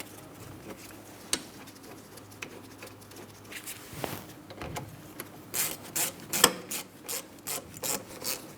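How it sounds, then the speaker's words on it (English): A ratchet snugging up the rear brake caliper slider pin bolts on a 2003-2007 Cadillac CTS, with quiet rubbing and handling noises first, then a close run of rhythmic clicking strokes toward the end. "Once we have them both started in, we can snug them up and torque them to 44 foot-pounds."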